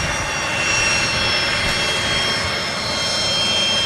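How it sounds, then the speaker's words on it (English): Pilatus aircraft at Manchester Airport, a steady droning engine whine with a continuous high tonal hum, heard from a moderate distance with no one talking. "Nice little Pilatus that."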